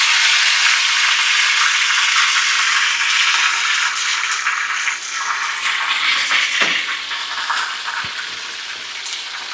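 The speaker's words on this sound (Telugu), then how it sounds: "ఈ అల్లం వెల్లుల్లి పేస్టు పచ్చివాసన పోయేంత వరకు బాగా కలబెట్టుకోవాలి" Ginger garlic paste frying in hot oil for chicken pickle, a steady bright sizzle and crackle that stays loud throughout, with faint scraping of stirring and no talking.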